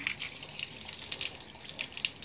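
Water is poured over plant roots, a close, soft splashing and trickling that runs steadily for a couple of seconds with small bright drips throughout.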